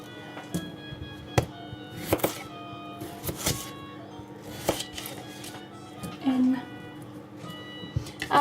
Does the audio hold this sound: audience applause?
no